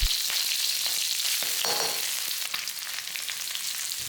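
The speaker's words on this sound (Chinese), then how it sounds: "用这个油把其他的香料爆香" Spices crackle and sizzle in rendered pork fat from pork belly, a bright, close frying hiss with small pops and an occasional stir, steady and with no voices.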